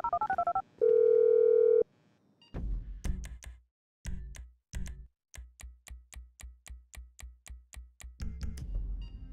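Telephone dialing in the Grand Theft Auto V prologue: a warbling tone and a steady dial tone, then a rapid run of short, evenly spaced clicks and beeps as the number is dialed, followed by a low rumble.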